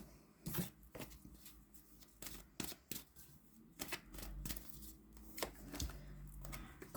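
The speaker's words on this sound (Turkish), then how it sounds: "Evet sizin için kartlar çekelim." Tarot cards drawn from a deck and laid down: a string of sharp, dry flicks and snaps at uneven intervals, close and fairly quiet, with no talking.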